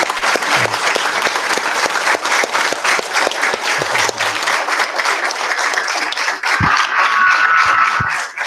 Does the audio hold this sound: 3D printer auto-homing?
no